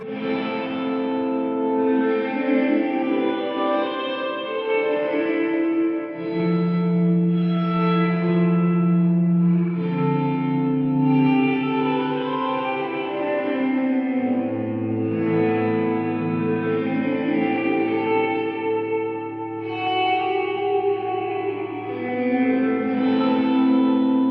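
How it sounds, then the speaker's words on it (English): Sustained, layered synth-like tones drenched in heavy fully wet reverb and echoing delay panned left and right, washing continuously with long smeared tails and no dry attack. "how far left and right the reverb and the delay is panned"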